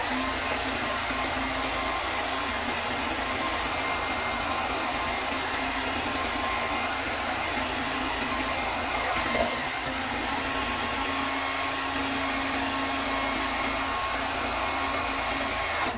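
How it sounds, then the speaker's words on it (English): A blow dryer runs continuously for about sixteen seconds, a steady airy whoosh with a constant motor hum, used to dry and straighten a beard; no one speaks. "So with my blow dryer, I have a cool setting on there"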